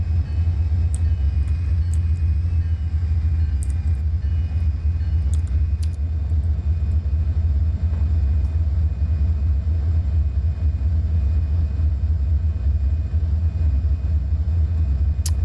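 Steady, loud low rumble of a train heard from the cab on a busy main line in the Trainz game, droning unbroken throughout with faint light clicks and ticks above it.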